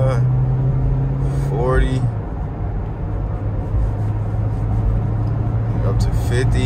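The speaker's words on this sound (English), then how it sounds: "Well, the four cylinder got a little kickback." A four-cylinder car on a road test drive at an auto auction hums steadily with a low engine drone and road noise under continuous talking, pitch rising briefly as it pulls ahead.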